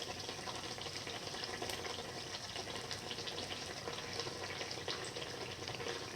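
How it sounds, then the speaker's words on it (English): Dates and rice flour fritters frying in hot oil, giving a steady, even crackling hiss at moderate volume that runs without a break and without any talk. "Let it fry further."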